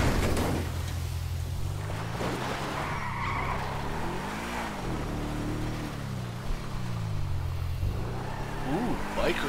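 A car drives off-road in the video game GTA V, with a steady engine drone, rising and falling revs and tire skids across rough ground, loud and continuous, while someone talks over it.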